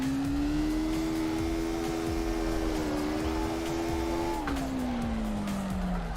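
A drifting car in CarX Drift Racing Online, a continuous engine tone that holds steady, dips briefly, then falls as the revs drop, with constant tire noise underneath and no talking.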